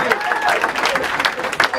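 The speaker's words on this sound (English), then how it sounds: "Another round of applause for Steve, everybody." A comedy club audience applauds comedian Steve in a short, dense burst of clapping that stays steady throughout, with a host's voice talking over it.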